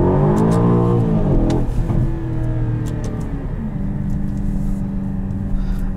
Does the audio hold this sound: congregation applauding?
no